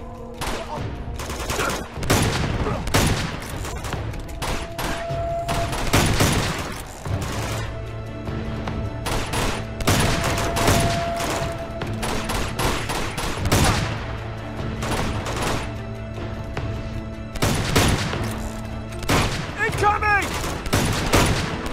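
Gunfire in the video game Uncharted 2, with repeated loud bursts of shots and booming blasts spread throughout over steady game background sound.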